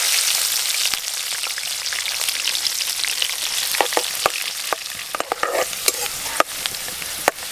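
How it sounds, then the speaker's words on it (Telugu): Green chillies and onions fry in hot oil in a pan, a steady bright sizzle with scattered pops and crackles that grow busier toward the end, close and continuous with no talk. "దీంట్లోనే మనం పచ్చిమిరపకాయలను ఉల్లిగడ్డలు కూడా వేసుకుందాం"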